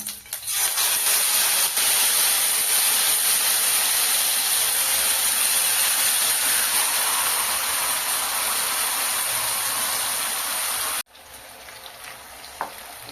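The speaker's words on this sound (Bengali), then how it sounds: "এখানে ভাজার জন্য দিয়ে দেব।" Tandoori chicken sizzles in sunflower oil and butter, a loud, steady frying hiss that runs up close for about eleven seconds before a sudden drop to a quieter sizzle.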